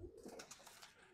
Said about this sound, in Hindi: कबूतर जो है काफ़ी बुरा मान रहे हैं